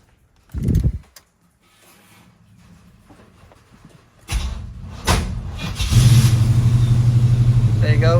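A 1987 Chevy R10 pickup truck's engine cranks and catches, then settles into a steady low idle rumble; a couple of clunks come earlier, and the engine sound grows louder toward the end.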